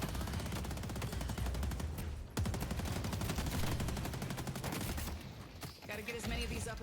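Sustained rapid automatic gunfire in the video game Deadlock, dense and continuous at close range, with a sharp impact midway and other game effects near the end.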